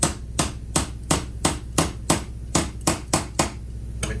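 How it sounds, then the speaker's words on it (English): Regular metal tapping as a T-handle drives a part snug on a Fusion AP spray gun during a rebuild, about a dozen sharp, evenly spaced knocks up close, no voices. "And all I do is I tap it just a little bit"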